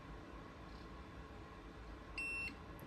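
A single short electronic beep from a Munbyn thermal label printer's feed button sounds near the end, a bright tone lasting a fraction of a second over a low background hum.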